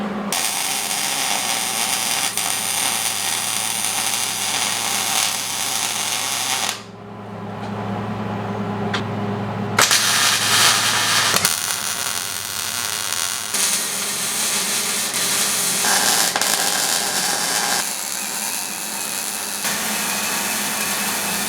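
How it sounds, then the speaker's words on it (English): Steady, harsh crackling hiss from welding a steel workbench in a blacksmith shop, running in long continuous beads with brief pauses and shifts in tone between welds. "I'm going to go through and start welding a little here, and then a little over here, and a little over there"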